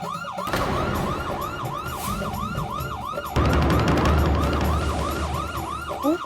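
A police car siren wails in a repeating up-and-down pattern in a residential society, loud and steady, with a second siren layer and engine rumble joining midway.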